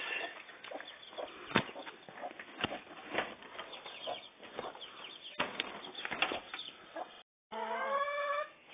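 Chicks and chickens in a coop cluck and chirp continuously, with bursts of wing flapping and a brief gap near the end. No one speaks.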